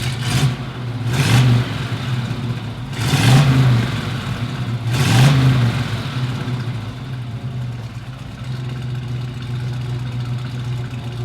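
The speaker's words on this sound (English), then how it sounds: "These cars still make a great rumble and plenty of power." A 1981 Pontiac Trans Am V8 idles with a steady low rumble, broken by three sharp throttle blips that swell and fall back, close and loud with no talking.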